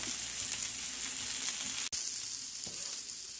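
Steak browning in a hot pan for a low-carb Philly cheese steak gives a steady, close sizzle of frying, with one abrupt brief dropout partway through and no talking.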